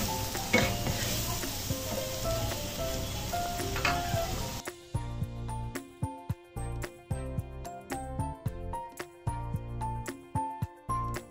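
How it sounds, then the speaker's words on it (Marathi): Chopped onion with salt sizzling and being stirred in a kadai for restaurant-style kadai paneer, a steady frying hiss at first, then sharp repeated clinks and scrapes of a spoon against the pan in an uneven rhythm. "पुन्हा एकदा आपण कांदा जो आहे तो परतून घेणार आहोत"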